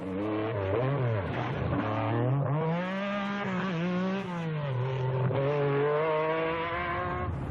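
A Metro 6R4 rally car races flat out in a rally event around Douglas, its engine revving hard through rising and falling gear changes, loud and close, with no talking over it.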